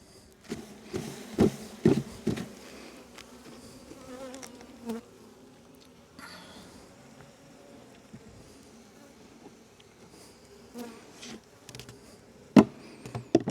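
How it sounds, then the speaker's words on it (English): Honeybees buzzing steadily around an open hive box while frames are worked during a hive split, the drone continuous and close with a few louder knocks and bumps of handling. "See if I can knock some of these bees into this box."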